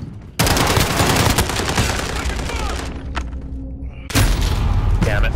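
Rapid automatic gunfire from a gun in Call of Duty: Modern Warfare, loud and close, rattling almost continuously with a brief lull before a second intense burst near the end; a voice is faintly audible beneath the shooting.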